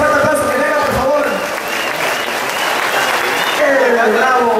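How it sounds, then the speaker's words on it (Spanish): A large festival crowd applauds strongly for visiting delegations, a loud, dense wash of clapping that holds steady for several seconds with voices mixed into the noise. "Este fuerte aplauso que venga"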